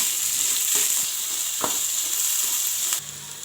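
Chopped vegetables fry in hot oil for Schezwan fried rice, a steady loud sizzle running throughout with a few brief stirring scrapes, the hiss dropping slightly near the end.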